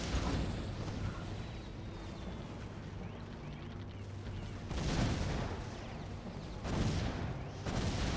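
Cannon towers fire in the Defense Grid: You Monster strategy game, heavy booming bursts over a constant dense clatter of battle noise, with two louder blasts standing out near the end.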